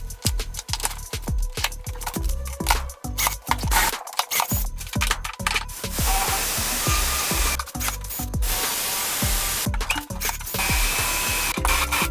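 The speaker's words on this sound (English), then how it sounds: "So I'm gonna continue just like this, put 4 rivets in each for extra strength and keep it moving." A rivet tool fires rivets into an aluminum jon boat frame, a string of sharp mechanical snaps and bursts in irregular clusters, loud and near, with no voices.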